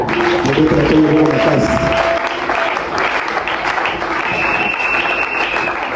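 A church congregation applauds at a French-language worship service, dense sustained clapping from a crowd filling the room, with voices and brief tonal cries mixed in.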